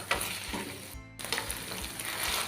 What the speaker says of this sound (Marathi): सर्व आपल्याला मंद आचर करायची आणि मिक्स करून घेऊया